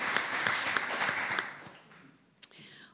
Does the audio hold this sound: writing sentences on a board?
no